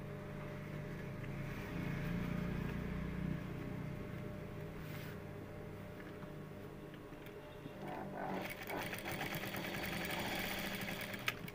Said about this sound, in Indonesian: Kita jahit.